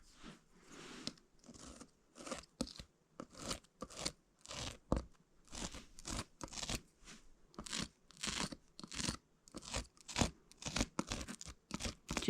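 Scissors cut fabric along a drawn line in a quick run of repeated crisp snips, quiet and close with short gaps between cuts.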